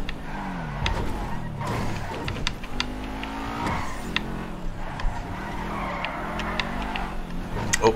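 A car in GTA V is driven hard around corners, with repeated loud tire squeals and skids over a revving, shifting engine, sustained and close throughout.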